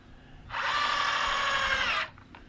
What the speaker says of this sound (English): Trying to drill